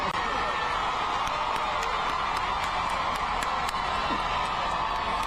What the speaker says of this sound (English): It sounds like a massive crowd.